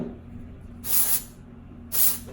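Two short bursts of aerosol hair spray onto a ponytail, each hissing for about a quarter second, with a pause between them, close and clear.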